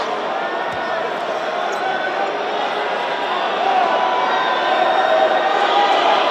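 Arena crowd murmuring and calling out at a professional basketball game between the Taoyuan Pilots and Formosa Taishin Dreamers after a disputed referee call, a steady broad roar that swells slightly louder near the end, with no clear talk over it.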